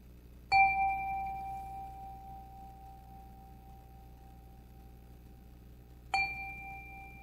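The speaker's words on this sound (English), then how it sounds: "let us bring ourselves fully into this moment with the ringing of our chime." A chime rung in a Unitarian Universalist sanctuary during a Sunday service: two clear strikes about five and a half seconds apart, each a bright metallic ring with a long, slowly fading sustain in a quiet room.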